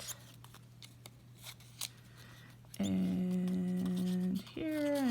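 Scissors cut green paper in a few quick, close snips. A louder, sustained tonal noise then starts and carries to the end.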